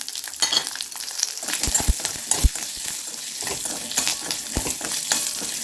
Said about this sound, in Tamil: இப்போ நம்மளோட பூண்டு நல்லா வதங்கிடுச்சு